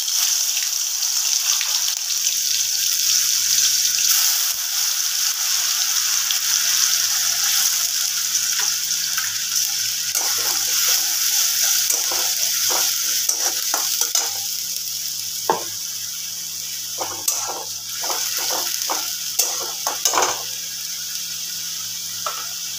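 Masala paste fries in mustard oil in a pan for shol fish kalia, a loud continuous sizzle close by, with scraping stir strokes and light clinks breaking through later.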